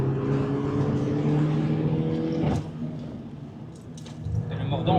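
Peugeot 208 GTi engine pulling at full throttle through a corner, a close, loud rising drone that dips briefly midway and then builds again, with someone talking over it.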